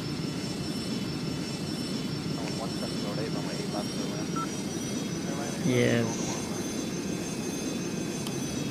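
Steady drone of four aircraft engines in the Airline Commander flight game, a constant whine and rumble throughout, with a voice speaking briefly over it.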